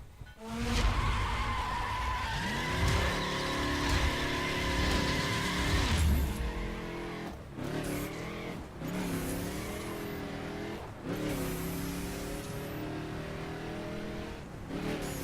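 Chevrolet Impala SS sports sedan in The Crew racing game, its engine revving hard and dropping through gear changes while tires squeal and skid repeatedly, loud and continuous throughout.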